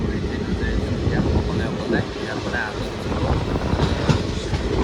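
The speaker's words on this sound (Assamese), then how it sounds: "ট্ৰেইন আহি আছে ইয়াৰ আগত" A train arriving at a station rumbles and rattles steadily close by, with wheels clattering and a few high squeals over the low roar.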